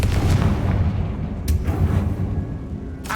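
Confringo spell blasts in Hogwarts Legacy, a dense series of booming impacts with sharp bursts rolling on for about three seconds, loud and close.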